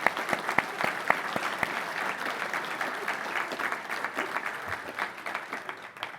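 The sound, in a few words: audience applause for professional staff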